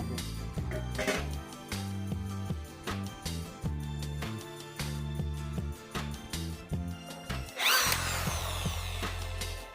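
Power drill enlarging a screw hole while building a used-oil stove frame, whirring in repeated short close bursts that rise and drop, ending with a louder grinding surge near the end.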